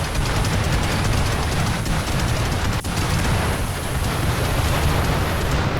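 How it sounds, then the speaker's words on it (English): Chemfuel barrels blowing up inside a fire trap in the video game Rimworld, a dense, steady roar of blasts and crackling flames, loud and continuous, with one sharp burst near the middle. "With the enemy enclosed by fire and explosions on all sides, there is simply no escaping this fiery trap of doom."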